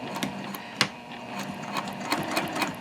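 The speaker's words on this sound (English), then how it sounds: "I'm back at the machine and I have my piece underneath the presser foot, and I'm going to start off by going forward a couple of stitches" A sewing machine stitching a tote bag seam, giving a steady close mechanical whir with faint rhythmic clicking and a brief knock near the start.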